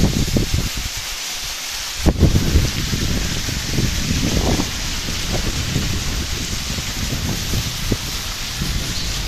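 Heavy rain at Bhagamandala near the flooded Napoklu road, a dense, steady hiss of downpour with low rumbling beneath and a brief sharp knock early on, continuous and fairly loud throughout.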